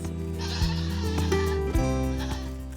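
Sheep bleat at a farm attraction holding many animals, several loud, close, wavering calls that overlap one another in quick succession with no talking.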